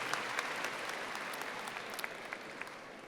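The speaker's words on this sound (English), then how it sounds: "I would like you to give a warm applause for Ms. Winkler and her dedicated service to" An audience at a high school graduation ceremony gives sustained applause, heard as a steady wash of many clapping hands at moderate distance, with occasional sharper claps standing out.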